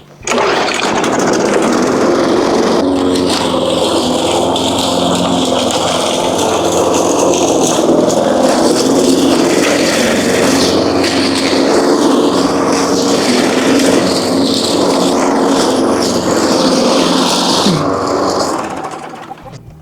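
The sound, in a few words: lawn mower mowing grass beside a polytunnel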